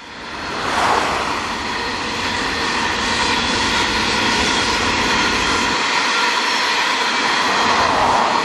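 A long train rumbles past steadily between Rockhampton and Bundaberg, a loud continuous roar with grinding wheel noise holding for many seconds.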